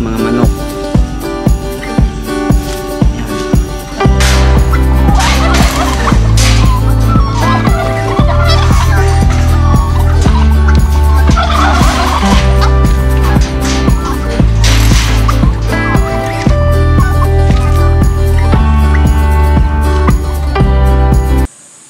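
Turkeys and chickens being fed outdoors in Narvacan, Ilocos Sur, with loud repeated gobbling and clucking from a flock close by over a steady rhythmic background beat.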